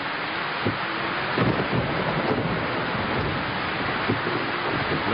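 Rain and wind sweep through a Telugu film scene where a car has stalled in a downpour, a continuous dense wash of noise with occasional soft gusts and low rumbles, no voices.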